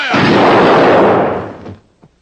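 A rifle volley from a firing squad cracks out as one loud, close blast that rolls and rumbles for over a second before fading, followed by a faint click.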